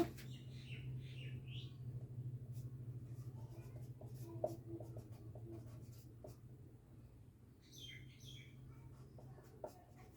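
A pen scratching across paper in steady short strokes, faint and close, over a low background hum with occasional birds chirping in the distance.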